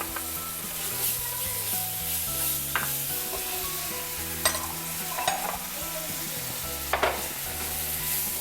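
Sliced onions frying in a pan on a lowered stove flame, a steady sizzle under repeated scraping and stirring strokes, with a few louder clatters of the spoon against the pan.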